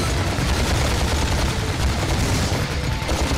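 Dense, continuous rapid gunfire from the Ratchet and Clank game, a loud, unbroken barrage of shots aimed at enemies and turrets with no pauses.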